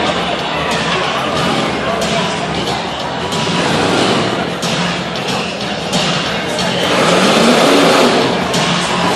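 An old big-body truck with a long wheelbase roars loudly and continuously at a motorsport event, its engine revving with a dense, rough rumble and occasional thumps.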